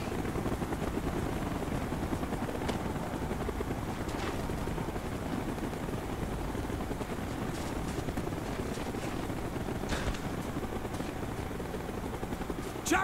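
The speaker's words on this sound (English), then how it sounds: "Chopper's inbound! Move it!" Helicopter in Call of Duty: Black Ops, flying during a PC campaign mission: a steady, loud rotor-and-engine roar that holds through the whole stretch, with faint scattered game noises over it.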